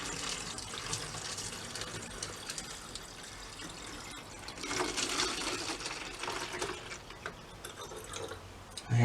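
Water poured over freshly taken willow tree cuttings in a garden, a steady splashing, trickling flow lasting several seconds that swells midway, close and fairly quiet, with no talk.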